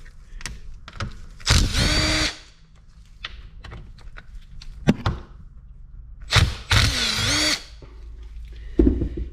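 A power drill whirs in two short bursts while splitting a Kawasaki KFX400 ATV engine's cases, its pitch sliding as it spins up and down, between clanks and taps of tools.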